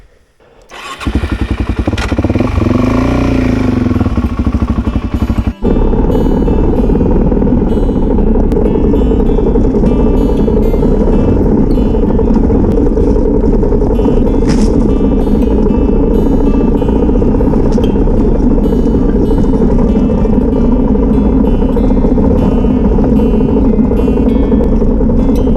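A Suzuki DRZ400 motorcycle starts and rides along Duck Creek Road. Its engine catches after a brief revving rise, then holds a loud, steady, near drone for the rest of the run.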